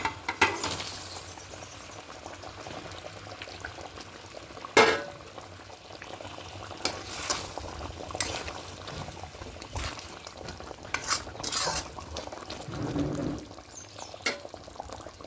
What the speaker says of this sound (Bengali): আর একটুখানি জল দেবো এবার জলটাকে একটু ফুটতে দেবো